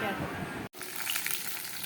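Fish heads fry in hot oil for muri ghonto, a soft, steady sizzle with a brief gap before the crackling resumes, fairly faint and close.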